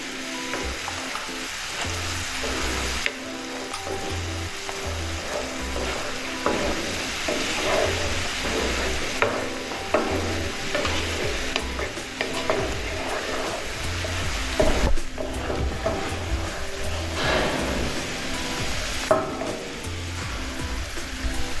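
Raw tomato puree sizzles and fries in a pan with chili powder, with intermittent stirring scrapes over a steady hiss throughout, close and fairly loud, no talking.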